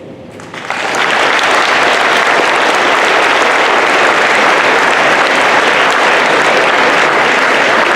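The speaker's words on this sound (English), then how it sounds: "Again, a round of applause for our two students, Aaron Palupo and Olivia DeLay, for helping" Loud, sustained applause from a school assembly audience at a MIA/POW table dedication ceremony, rising within the first second and holding steady and dense to the end, with no talk over it.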